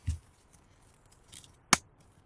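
Cutters snipping copper wire pulled from a small scrap electric motor: a soft clip at the start, then one crisp, sharp snip near the end, close and alone in a quiet room.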